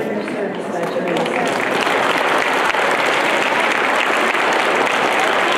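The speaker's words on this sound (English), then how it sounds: "Let's give our distinguished guests one more round of applause." An audience at a Veterans Day presentation gives a sustained round of applause, dense steady clapping that fills the room for several seconds at close range.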